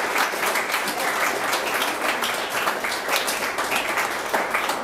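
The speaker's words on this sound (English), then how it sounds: "Let's clap for him." Audience at an international school event in Ghana claps steadily, a dense, moderately loud patter of many hands sustained without break or voices.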